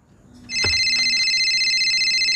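A mobile phone rings and buzzes with a vibration alert, a bright repeating electronic tone that starts abruptly after a faint rumble and continues loudly and steadily.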